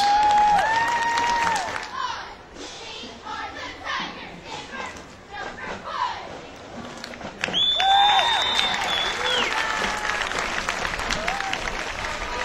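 A parade crowd at the Henry County Tomato Festival applauds and cheers for the Holgate Junior High cheerleaders, with steady clapping and shouts rising and swelling toward the end.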